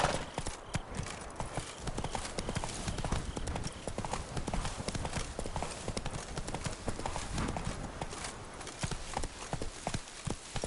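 A horse trots along in The Witcher 3: Blood and Wine, a steady rapid clip-clop of hooves running continuously and fairly close, with the rider's voice briefly heard over the hoofbeats.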